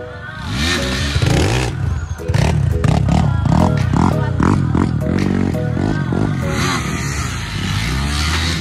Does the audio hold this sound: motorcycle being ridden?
yes